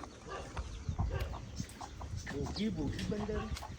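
Roosters and chickens at an animal shelter cluck in short repeated bursts, moderately near, under a busy background of other farm animals and talk.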